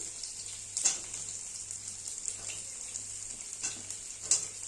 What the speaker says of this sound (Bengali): এবার আলুগুলো এরকম একটা ডুমো ডুমো করে কেটেছে দিয়ে দিচ্ছি।